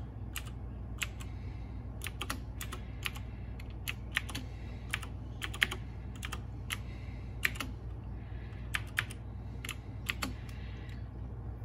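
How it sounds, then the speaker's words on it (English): Keys on a computer keyboard click out a password in quick, uneven bursts of crisp taps with short pauses between groups, close up over a low steady hum, no talking. "so I do have to type in the password"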